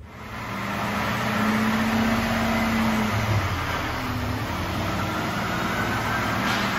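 A 2022 Ford F150 pickup truck with a bone-stock exhaust starts up on a dyno and settles into a steady, loud idle, close by, with no talk.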